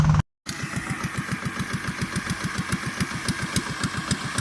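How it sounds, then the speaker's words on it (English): Rice thresher blower fan running on a farm in the province, a steady loud mechanical drone with a fast regular pulsing beat after a brief cut, no voices. "after they've run it through the thresher, then they have this fan going. They call it the blower"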